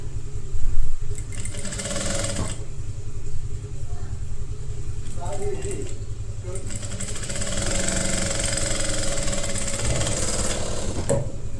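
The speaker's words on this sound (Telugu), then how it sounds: "జస్ట్ ఇది ఒక కుట్టు కుట్టండి." A sewing machine hums and rattles steadily at close range while stitching thread piping, running through most of the stretch with a brief louder knock near the start.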